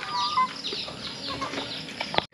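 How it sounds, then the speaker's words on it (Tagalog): Free-range broiler chickens on a countryside farm cluck and chirp in short, scattered calls at close range, several birds overlapping with no talk. "May mga broiler chicken tayo dito na naka free range."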